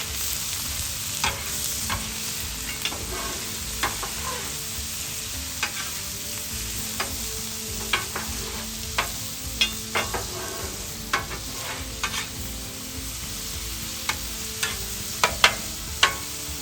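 Turkey stuffing ingredients sautéing in a pan on a Big Green Egg grill, a steady sizzle under repeated sharp scrapes and clacks of a spatula working the mix, coming every second or so.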